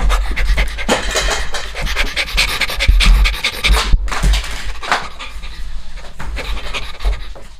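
A person imitates a dog asking to go out, with loud, rapid, rhythmic panting breaths that continue steadily close to the mic, with no other talk.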